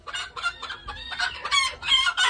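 Chickens cluck in quick, close bursts, several birds calling over one another at a village home.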